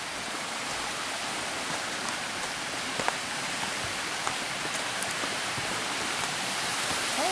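Water pours down Ramblewood Waterfall in a continuous, even rush heard from a short distance at a campsite, with a few faint clicks and knocks over the steady hiss.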